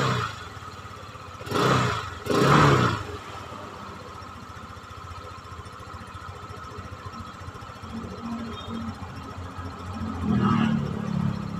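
A motorcycle engine revved twice in quick succession as the throttle opens, close and loud over a steady idle, with another rising rev near the end.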